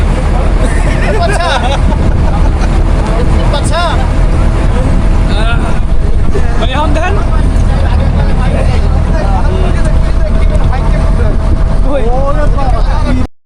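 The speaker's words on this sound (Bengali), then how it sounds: "আমরা ফেরি দিয়ে পার হচ্ছি।" A ferry crosses the river at Mongla ferry ghat. A low, steady engine rumble runs beneath constant loud crowd babble and scattered voices on board.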